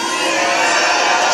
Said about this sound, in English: Come on, Auburn, let's get loud, let's cheer, let's do this for Charlie